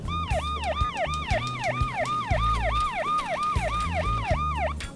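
A loud, close ambulance siren wails in a fast repeating up-and-down pattern, with a vehicle engine rumbling beneath.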